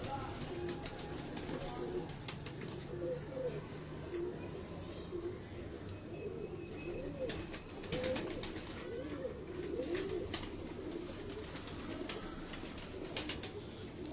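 Pigeons in a fancier's loft coo in repeated low calls through a steady background, with someone talking nearby throughout.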